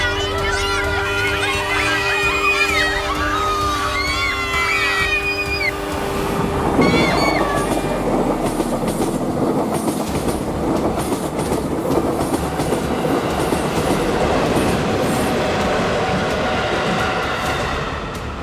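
A train passing a railway crossing: horn-like tonal blasts and rumbling give way to loud, continuous clattering of railcars rolling by close at hand, with voices briefly audible early on.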